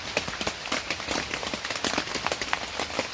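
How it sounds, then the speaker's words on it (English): Heavy rain in Vermont pours down steadily, a dense hiss of drops striking a surface with scattered louder splats throughout. "Goes from pouring to tsunami style rain."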